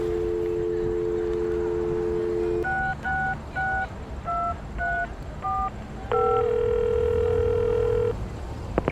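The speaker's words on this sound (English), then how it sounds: "You pick up the phone, and to your delight, you get a dial tone." A payphone in the Leisure Suit Larry video game plays a steady dial tone, then a quick run of touch-tone dialing beeps, followed by another long tone.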